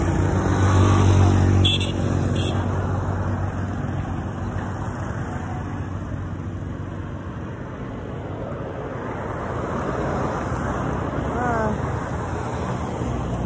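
Busy street traffic in Rwanda, with cars and moto taxis passing close by: an engine hums loudly at first, then fades into a steady wash of road and wind noise with distant vehicles.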